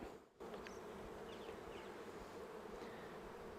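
Honey bees buzz steadily around an open Flow Hive as the inner cover is handled, a dense close-up hum with a brief dip near the start and faint higher whines of individual bees passing.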